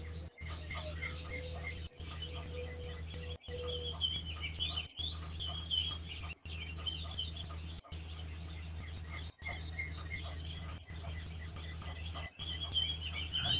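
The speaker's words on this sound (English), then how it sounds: "We got a little rain going on this morning, but the birds seem to be really happy." Birds chirp and call through a steady patter of morning rain, with repeated bright calls and a fowl-like cluck over a constant low hum, broken by regular brief dropouts.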